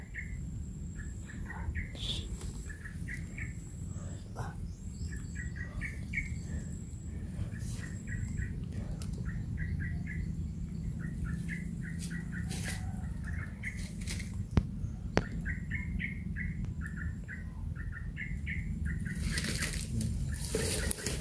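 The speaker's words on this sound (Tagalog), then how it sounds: "Ang ibon dito." Repeated chirps and short bird calls ring out over a steady low rumble of outdoor background noise, continuing throughout with occasional flapping or clicks.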